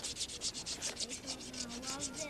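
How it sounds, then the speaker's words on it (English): A sculptor works over a carving to remove chisel marks with a rasp and wet-and-dry sandpaper, giving a steady, close rhythmic scraping and rubbing with repeated strokes about five per second. "you have to get off all your chisel marks, so you use a rasp. Then you go from a rasp to wet and dry sandpaper."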